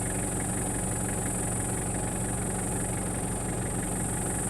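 A safari vehicle's engine drones steadily while driving alongside eland, a loud, constant, vibrating rumble with a high whine on top, unbroken for the whole stretch and with no talking.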